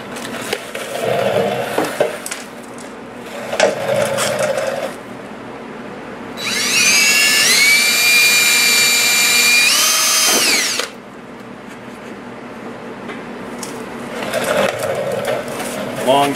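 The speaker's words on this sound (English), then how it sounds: "We're going to drill a 1/4 inch hole right there." A power drill drilling a quarter-inch hole whines loudly for about four seconds, holding a high, steady pitch, with talking and handling noises before and after.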